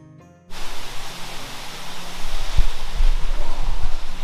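Dimosari waterfall on the Greek island of Lefkada roars in a dense, constant hiss of falling water, close and loud, starting abruptly after a brief quiet moment and swelling slightly, with faint thumps beneath it.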